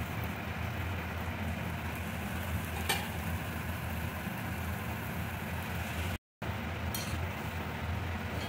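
Palm fritters (taler bora) frying in oil, a continuous close sizzle with a couple of faint clinks and a brief dropout near the end, without speech.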